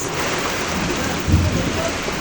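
Heavy rain pours down in a dense, unbroken hiss close by, with a brief low rumble swelling midway through.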